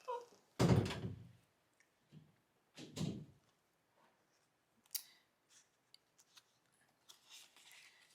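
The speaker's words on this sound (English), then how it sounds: "Close your door, please." In a quiet home room, a door is pushed shut with a solid thunk, followed a couple of seconds later by a second softer thud and a few faint clicks.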